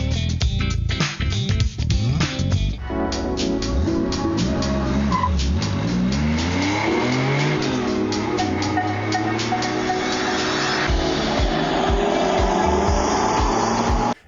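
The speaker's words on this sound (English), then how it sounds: "We have this Porsche peeling out, gear shift, peeling rubber, and then we have this turbo flutter" Porsche peeling out with a gear shift, tires screeching on the pavement and turbo flutter following, loud and close, a continuous roar of engine and squealing rubber with no voices.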